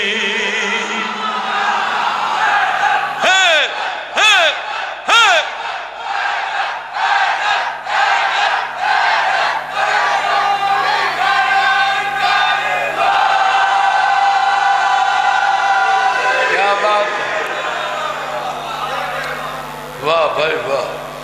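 Large crowd chanting religious slogans in unison, loud and rhythmic, with repeated shouted calls and responses answered by the crowd, mixed with talk throughout.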